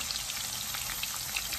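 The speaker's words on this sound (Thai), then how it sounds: "โคล่าอาจจะไม่ทอดนานมากนะคะ" Food frying in hot oil, a snack for drinking being deep-fried, giving a steady close-up sizzle with dense crackling pops and no voices over it.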